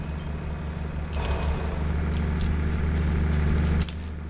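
Tractor engine idling in Farming Simulator 25, a low steady diesel rumble that swells slightly louder midway, then drops back abruptly near the end, with no talking.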